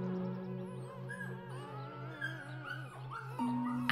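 Young puppies on a mountain farm whine, whimper and yelp in a run of thin, high wavering cries over a soft steady hum, close and fairly quiet.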